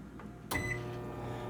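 A microwave oven switches on with a sudden click and settles into a steady, moderately loud hum that carries to the end, with no talking.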